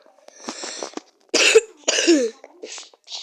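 A series of harsh coughs, several bursts in a row with short pauses between, close and fairly loud.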